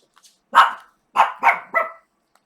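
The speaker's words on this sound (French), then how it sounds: "Désolée pour le chien qui aboie, j'ai entendu un chien dehors." A dog barks four times, one bark followed by a quick run of three, somewhat distant but clear against silence.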